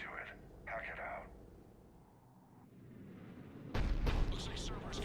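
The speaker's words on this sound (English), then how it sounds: "Looks like Cerberus got that cannon operational, Commander." Cerberus cannon firing in the video game Mass Effect 3: a heavy, booming blast arrives near the end after muffled distant rumbles, with brief voice-like bursts earlier.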